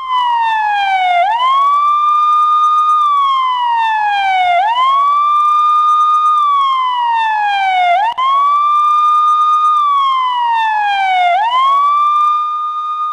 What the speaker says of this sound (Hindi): पाकिस्तान में चारों तरफ एम्बुलेंस की आवाज और एम्बुलेंस के सायरन गूंज रहा था।